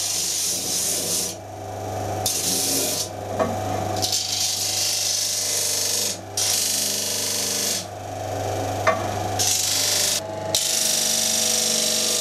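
A power sander grinding a draft taper onto a wooden pattern for bronze casting, on a table set just off 90 degrees, makes a loud, continuous abrasive rasp. It comes in several sustained passes separated by brief pauses, with a steady motor hum beneath.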